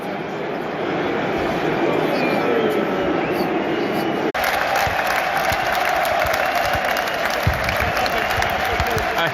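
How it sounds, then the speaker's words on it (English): Loud roar of a large football crowd cheering inside a packed Premier League stadium as Everton fans react, a sustained dense wall of voices and applause heard close from the stands. "A huge cheer from Everton."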